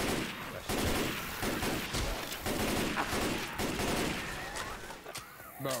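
Gunfire in the video game Left 4 Dead 2: rapid, close bursts of shots crackle repeatedly through most of the moment, thinning out near the end.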